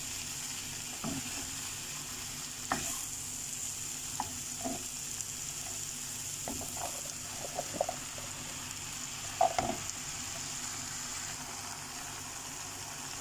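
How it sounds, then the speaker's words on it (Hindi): Ridge gourd and moong dal fry with spices in a pan, a steady broad sizzle running throughout with occasional scrapes and clinks from stirring, fairly close and moderate in level, no voices. "मसाले के साथ तुरई को और दाल को भूनना है।"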